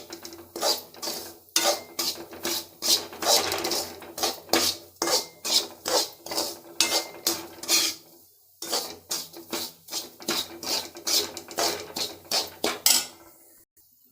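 Semolina (rava) dry-roasted in a pan for kesari, stirred steadily with a spatula, making rhythmic loud scraping strokes against the metal in regular bursts, pausing briefly midway before resuming, with no talking.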